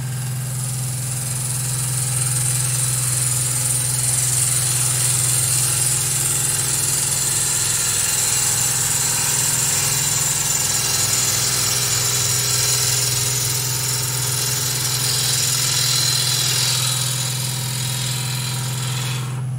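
A steady, loud whir of a wood lathe runs throughout as the cutting tool takes big cuts and peels off long shavings, a constant drone with no talking.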